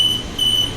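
Two short, high electronic door-closing warning beeps on a Joondalup Line express train sound in quick succession over a low background hum.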